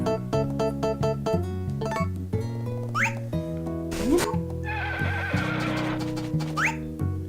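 A horse in the video game Harvest Moon: A Wonderful Life whinnies a couple of times over steady game music, with brief rising squeals and a rough burst in between.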